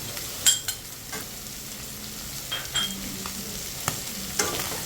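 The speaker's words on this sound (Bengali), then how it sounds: "এখন আমি গাজর দিচ্ছি।" Carrots going into a pot of vegetable soup on the stove, giving a soft, steady sizzle with several light clatters and stirring scrapes spread through a few seconds; no one speaks.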